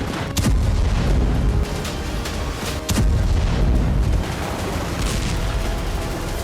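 Bombing explosions in Gaza, heavy continuous rumbling booms with a few sharper blasts rising above a dense, loud roar, with no voices.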